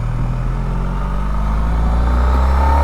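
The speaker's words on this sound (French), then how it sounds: "Si je réaccélère, là ça repart vraiment fort" A 2013 Honda Pan European motorcycle engine pulls strongly in fifth gear from low-mid revs, a loud, continuous deep rumble that swells slightly as it accelerates.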